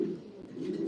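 Racing pigeons being basketed for a race at Honiton give a low, steady coo, a soft continuous murmur heard close up for about a second.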